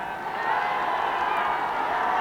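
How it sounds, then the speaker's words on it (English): Kerry supporters roar at a 1974 Munster Football Final between Kerry and Cork, a broad, steady crowd cheer that swells slightly and holds throughout, heard from a distance as a continuous wash of voices. "just listen to the Kerry crowd, gone wild with delight"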